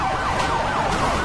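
A police siren in the racing game Need for Speed Hot Pursuit, wailing in quick rising and falling sweeps over a loud, steady engine roar.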